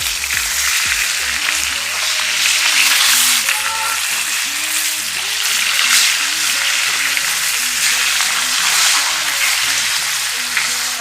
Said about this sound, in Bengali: এক পিঠ হয়ে গেছে, আর এক পিঠ উল্টে দেব।